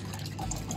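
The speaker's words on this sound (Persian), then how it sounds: "حالا سیفون کرد. آب الان اینجاست." Water drains through an aquaponics bell siphon, a steady close gurgle and rush of flowing liquid with a few brief drips on top.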